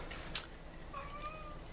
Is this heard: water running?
no